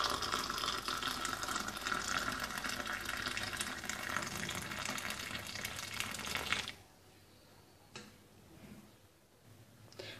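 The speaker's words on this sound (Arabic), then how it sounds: "ثم سأضيف إليه الماء الغليان يعني بمقدار كوب واحد" Boiling water poured into a cup holding a single cardamom pod, a loud continuous splashing stream for several seconds that stops abruptly, followed by quiet with a few faint drips.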